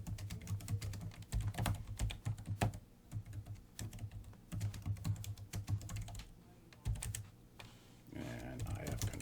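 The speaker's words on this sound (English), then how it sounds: "I'll just type the command." Fingers type a command on a computer keyboard during a Linux networking lab, bursts of quick close clicks and clacks separated by short pauses, quiet and without voices.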